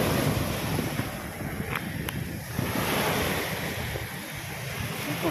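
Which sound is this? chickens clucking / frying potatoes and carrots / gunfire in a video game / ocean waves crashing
ocean waves crashing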